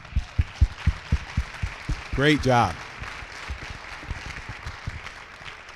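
Audience applause at a Banneker High School celebration: steady, rhythmic clapping runs through the whole stretch, briefly overlapped by a short spoken phrase in the middle.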